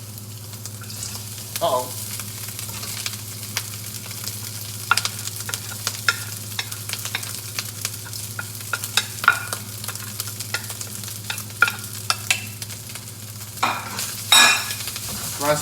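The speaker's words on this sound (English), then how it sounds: "So now, just drop the rice in." Rice stir-frying in a non-stick wok on an electric stove, a steady close sizzle with repeated scraping and tapping of the spatula and a louder burst near the end; a voice speaks briefly.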